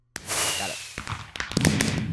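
Fireworks launching and popping inside a spaceship full of oxygen in modded Minecraft: a sharp onset, a whooshing burst, then crackling pops and thuds at moderate loudness, with no talking.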